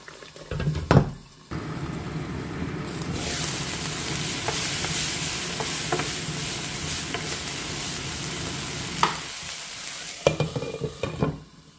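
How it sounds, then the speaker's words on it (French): Tomato sauce releasing its oil and sizzling in a frying pan for a stovetop pizza, a steady close frying hiss with stirring scrapes and a few clinks at the start and end, no voices. "La sauce tomate commence à rejeter son huile. Je vais laisser cuire encore quelques minutes"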